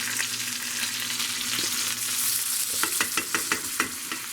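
Garlic and peppercorns sizzle in a hot pan beside a pan-seared bone-in prime rib, a steady close frying hiss with a few sharp crackles and pops toward the end, with no talk.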